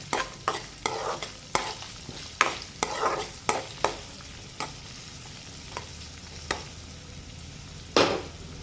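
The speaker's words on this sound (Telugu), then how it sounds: "ఇప్పుడు ఆనియన్స్, పచ్చిమిరపకాయలు వేస్తున్నాను. ఇది కూడా ఒకసారి ఇలా కలుపుకోండి." Onions and green chillies get stirred into a frying cabbage and potato curry, a spoon scraping the pan in a run of distinct strokes over a soft, steady sizzle, close and clear with no talking.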